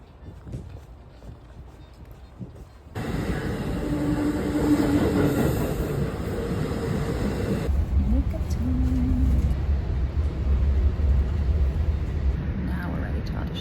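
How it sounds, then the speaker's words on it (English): Onboard a passenger train bound for New York, a steady low rumble and rolling noise fill the cabin after a quieter start, with a faint high whine and voices talking over it. "we are here at the train station, and now we have about an hour and 10 minutes on the train"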